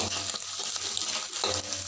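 Anchovies fry in hot oil in a wok with a steady, dense sizzle and crackle that runs through the whole short clip, close and fairly loud with no voices.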